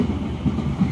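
An economy-class Motis passenger train runs along the rails between Jatinegara and Pasar Senen stations in Jakarta. A loud, steady low rumble is heard from on board, with faint rhythmic wheel thumps.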